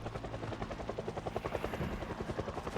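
A helicopter flies overhead in the zombie survival game Project Zomboid, its steady rotor chop pulsing loud and continuous through the whole stretch with no voices over it.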